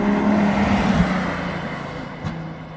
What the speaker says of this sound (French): Il y a pas mal de voitures qui passent ici et de motos